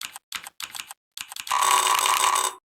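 Mechanical keyboard typing played through Mechvibes software: short bursts of rapid, clicky key presses in several separate groups, then a dense, continuous run of fast typing that ends abruptly, close and alone with no talking.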